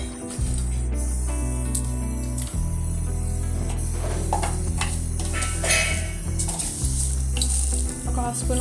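Dried red chillies sizzle and fry in hot oil in a kadai, a steady loud crackling hiss with a few sharper pops and stirring scrapes throughout, no voices.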